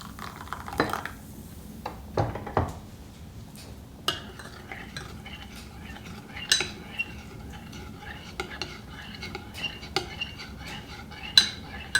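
A teaspoon stirs baking soda into half a cup of hot water for gingerbread, giving repeated light metallic clinks and scraping taps against a cup, irregular and close, with soft background murmuring.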